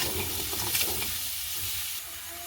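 Curry leaves stir-fry in a hot pan, a bright hissing sizzle with a few quick stirring scrapes near the start, close up, easing slightly toward the end with no voices.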